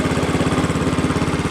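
A Massey 10 lawn tractor engine running through a quiet exhaust, a steady close putter with an even rapid pulse, loud and constant throughout.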